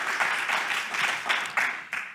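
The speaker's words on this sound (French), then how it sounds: "On peut un peu l'applaudir, monsieur le maire, pour cette première intervention." An audience in Vichy applauds the mayor after his first speech, moderate clapping with distinct bursts that swell and fade over a short stretch.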